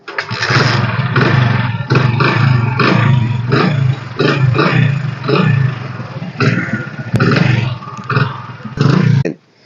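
A 2013 Hero Splendor Plus motorcycle engine starts and runs close by, a loud steady thrum with repeated throttle surges across the whole stretch before cutting off at the end.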